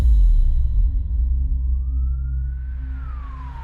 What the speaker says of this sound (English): Seconds later, the ambulance finally arrived and Kay was rushed to the hospital.